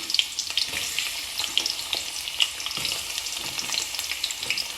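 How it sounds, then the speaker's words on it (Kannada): Onions frying in oil with cloves and cinnamon bark for a chicken dinner, a steady close crackling sizzle with small pops and occasional stirring scrapes, no voices. "ಈಗ ಆನಿಯನ್ಸ್ ಹಾಕ್ತಾಯಿದ್ದೀನಿ."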